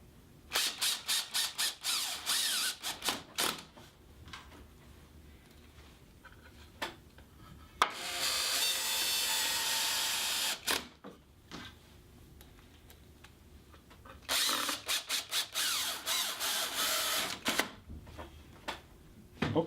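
A cordless drill drives 1.25-inch screws into wooden harvest basket sides in two sustained whirring runs of about three seconds each, separated by light clicks and handling noises.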